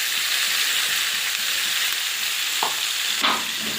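Spices sizzle in hot oil in a pan for a spicy green banana, potato and fish curry tempered with nigella seeds, with steady close frying hiss and a couple of brief stirring scrapes; no voices.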